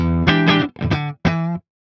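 An electric guitar played through an overdrive pedal, three crunchy sustained chords with a gritty, saturated tone, each cut off cleanly, loud and alone.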